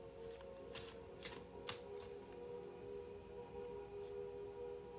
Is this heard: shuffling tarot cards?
yes